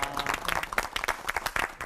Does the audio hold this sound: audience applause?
yes